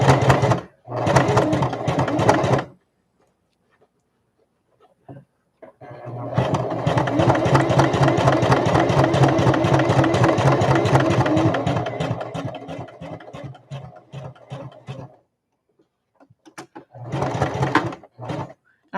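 A sewing machine runs in three bursts while top stitching a layered zippered bag: a short run near the start, a long steady stretch in the middle and a brief final spurt, with quiet pauses between.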